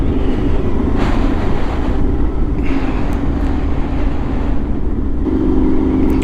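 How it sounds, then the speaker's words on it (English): A car driving on flooded country roads in Scotland changes gear, its engine hum shifting pitch near the end beneath a steady, loud wash of road and wind noise. "Oh, sorry, it's changed gear."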